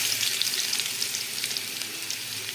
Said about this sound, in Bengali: কালো জিরে ফোড়ন দেব, তারপর দেব রসুন কুচি